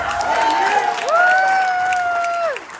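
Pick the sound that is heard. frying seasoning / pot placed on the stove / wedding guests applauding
wedding guests applauding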